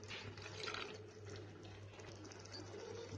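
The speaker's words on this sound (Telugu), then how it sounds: "1 గ్లాస్ వాటర్ కూడా వేసుకోవాలి." A glass of water poured into a ridge gourd curry in a cooking pot makes a soft, steady splashing and gurgling pour that runs the whole time, faint and close, with no speech over it.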